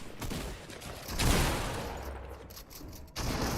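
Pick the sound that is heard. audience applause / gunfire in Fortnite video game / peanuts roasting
gunfire in Fortnite video game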